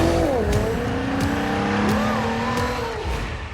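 A Nissan car drives past at speed, its engine note sweeping up and down with a faint tire squeal, close and fairly loud, under music-like background sound.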